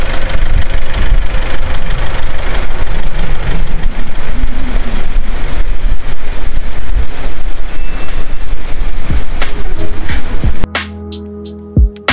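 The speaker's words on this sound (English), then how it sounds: "We're taking the ferry boat back to mainland now." A ferry's engine drones steadily and loudly at close range on a crossing back to the mainland near the Thai-Cambodian border, a continuous low rumble that cuts off near the end, leaving a few soft knocks.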